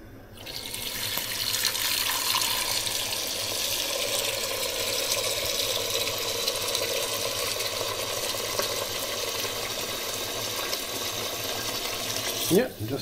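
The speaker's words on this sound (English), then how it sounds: "add some cold water to this" Cold tap water runs steadily into a pot in a home kitchen, a continuous close splashing rush that holds for the whole stretch before cutting off with a brief clunk at the end.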